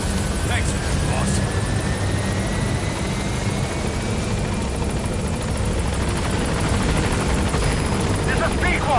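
A B-Quad helicopter in a video game approaches a landing zone, its rotor making a steady, continuous whir throughout.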